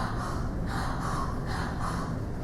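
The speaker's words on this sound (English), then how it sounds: "that's not effective breathing because you're breathing in and you're breathing out and it's almost at that same rate" Rapid, shallow breathing in and out at an even, quick pace, about five audible breath cycles pulsing close to the microphone over a steady background hiss.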